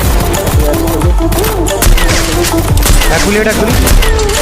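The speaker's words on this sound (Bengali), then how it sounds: "তো চলো রোড টু গ্লোরি টুর্নামেন্টের মিথলা ভাই স্নাইপিং এর জাস্ট একটা ঝলক দেখে আসি।" Sniper gunfire from a video game tournament match sounds loud and dense, with rapid reports, booms and tonal game effects layered together, while voices talk over the action.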